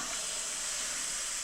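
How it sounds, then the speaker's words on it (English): A steam iron hisses steadily on quilt seams, a continuous airy bright rush of steam that stays even and moderately quiet for the whole moment, with no talking. "I'm going to steam all my seams real good"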